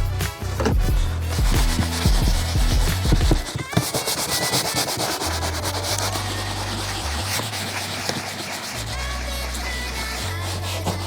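Scrubbing grime off leather car seats, with brisk rubbing strokes over a low droning background hum that shifts in pitch partway through.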